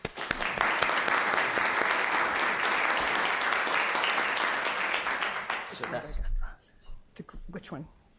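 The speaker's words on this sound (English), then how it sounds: "Please give me a round of applause." An audience at a university session applauds loudly and steadily for about six seconds as a speaker is welcomed, then the clapping stops and a voice begins talking.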